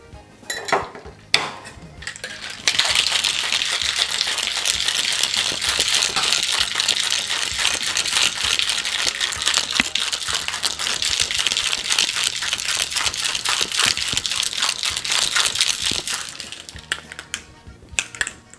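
Ice dropped into a metal cocktail shaker for a French Martini or Japanese Slipper, then shaken hard: a few clinks, then about thirteen seconds of loud, continuous rhythmic rattling of ice against metal, close and alone.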